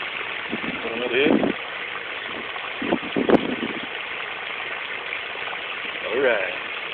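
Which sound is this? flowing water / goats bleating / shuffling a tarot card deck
flowing water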